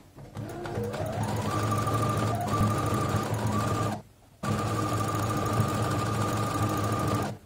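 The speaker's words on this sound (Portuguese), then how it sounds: "Vou parar aqui quando a agulha encontrar a costura do meu canto, para poder virar para outra lateral." Electric sewing machine running steadily to topstitch the side seam of a mitred-corner placemat, a continuous close whirring hum that stops briefly near the middle and then resumes.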